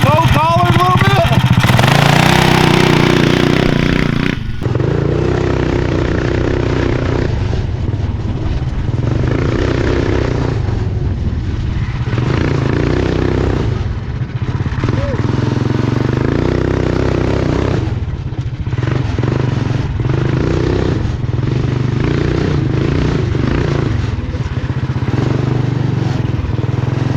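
A go-kart's small engine runs loudly nearby, revving hard at launch and then holding a rough, steady drone that rises and falls as it moves around a yard.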